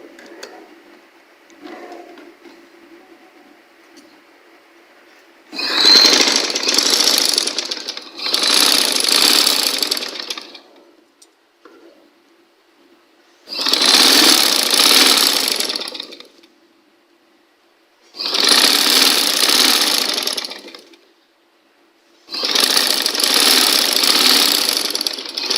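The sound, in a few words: sewing machine stitching fabric pieces together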